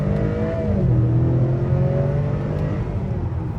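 A 2023 Acura TLX A-Spec sedan accelerates hard under paddle-shifted gears, its engine note climbing steadily in a continuous loud drone heard from inside the cabin, with no talking.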